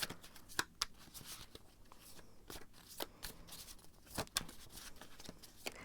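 Tarot cards are shuffled close by in quick riffling bursts with sharp snaps, repeating over several seconds, with no talking.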